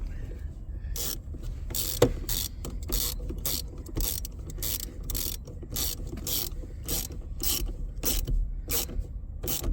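A ratchet clicks in quick regular bursts while a bolt is tightened back up during an installation on a Ford Maverick, close and fairly crisp, with no talking.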